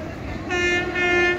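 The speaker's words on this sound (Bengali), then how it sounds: "জয়নগর ট্রেনটা ঢুকছে" Jaynagar train pulling into Prantik station, a loud sustained horn blaring over steady rail rumble, with a brief pause between two long blasts.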